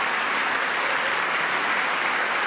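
Members of Congress applaud during a presidential address in the chamber, a steady, dense roar of clapping from a large crowd with no voices rising above it.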